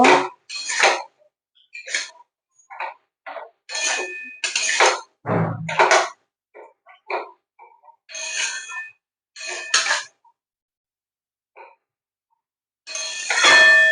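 A spoon stirs turmeric into bottle gourd leaves in a pan, producing scattered scraping clinks and short metallic scrapes in bursts separated by silences, close and fairly loud.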